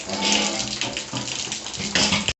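Dishes being washed under running water at a sink, a continuous splashing stream of water with faint clatter throughout.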